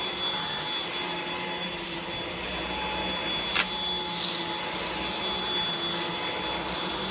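A Samsung Jet 90 cordless stick vacuum runs steadily on carpet at mid suction, a constant whirring drone with a high motor whine and a couple of brief clicks partway through, close and loud with no talking.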